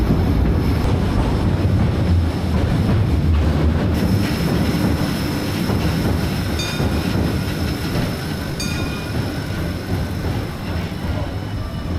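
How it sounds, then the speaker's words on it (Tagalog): Elevated train rumbling past at Tokyo DisneySea, a loud steady roar of wheels on track with faint metallic squeals, continuous and close throughout with no talking. "Yan o, may train din sa taas."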